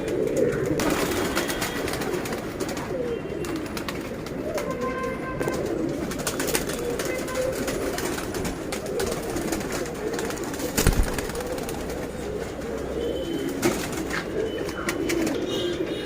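Pigeons in a breeding loft in Mumbai coo in soft, low repeated calls, several birds overlapping at close range, with occasional wing flutters and scuffles against a steady background hum.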